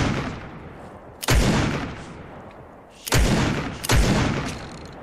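Gunfire in Fortnite, three loud sharp shots spaced a couple of seconds apart, each followed by a long rolling echo that fades slowly, close and heavy.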